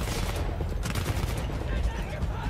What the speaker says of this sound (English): Got my fucking machine gun back.